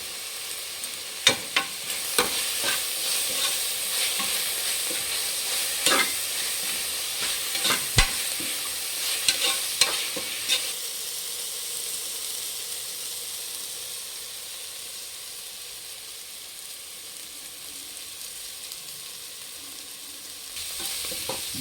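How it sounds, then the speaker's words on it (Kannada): Fenugreek greens fry in a pan for menthya bath, a continuous soft sizzle and hiss with several sharp scraping stir clicks early on, then settling into a steady, quieter frying sizzle alone. "ಫ್ರೆಂಡ್ಸ್ ಸೊಪ್ಪು ಬೇಯ್ತಾ ಇದೆ."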